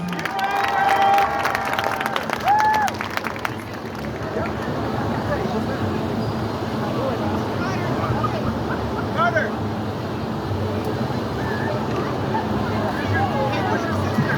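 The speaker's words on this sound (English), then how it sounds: "Let's give a round of applause." An outdoor crowd at a diving show claps and cheers after a warm-up dive, a sustained patter of applause with whistles and crowd babble, moderately distant, following a brief announcer's voice.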